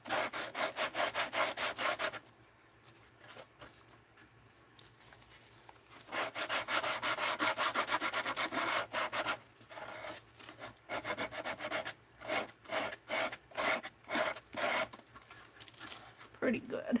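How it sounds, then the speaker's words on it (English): A craft piece being sanded down by hand with close, rhythmic rubbing strokes in bursts, separated by short pauses in the middle and toward the end. "Now I'm gonna sand this down a little here."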